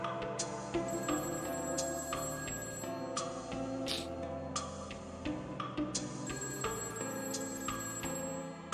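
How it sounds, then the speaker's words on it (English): Phone ringing in the video game A Summer's End, a loud, clear electronic ring repeating in regular bursts with no talk over it. "I heard my phone ring."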